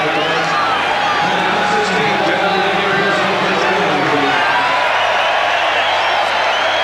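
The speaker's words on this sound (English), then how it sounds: "Big roar when he came on." A big stadium crowd at a rugby Test match between England and New Zealand at Headingley roars steadily as a player comes on, a broad continuous swell of cheering under a commentator talking throughout.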